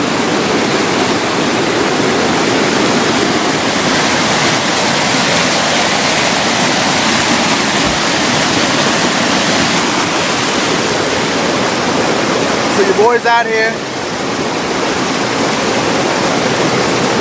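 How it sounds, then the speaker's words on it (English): Water rushes over the waterfall at Glendale Shoals in a loud, unbroken roar, with someone speaking briefly near the end. "enjoying the waterfalls"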